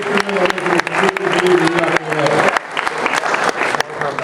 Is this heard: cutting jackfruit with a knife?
no